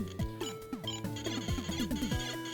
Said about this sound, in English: It's ad-lib and sound effects are provided by the PC speaker